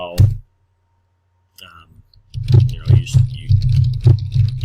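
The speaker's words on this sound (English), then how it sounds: "So I just start typing, so you're typing away." Typing on a computer keyboard while building a WordPress page, a quick run of close, crisp key clicks after a few brief taps, with a voice talking between them.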